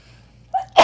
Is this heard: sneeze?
yes